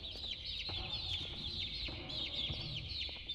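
Birds in the video game Garten of BanBan II cluck and chirp continuously at a moderate, steady level, with no voices over them.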